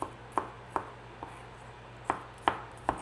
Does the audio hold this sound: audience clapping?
no